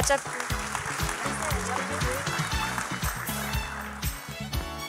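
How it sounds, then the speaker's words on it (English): Audience applause at the African Impact Award ceremony, a steady wash of clapping that runs the whole time beneath loud rhythmic music with a pulsing bass beat. "Clap it up, everybody."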